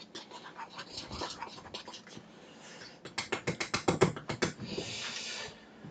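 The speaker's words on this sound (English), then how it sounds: "We should probably run a quick whisk to get that salt distributed and incorporated" A whisk stirring salt into flour for ravioli dough in a bowl, giving quick, rhythmic scraping ticks that speed up and grow louder midway before fading.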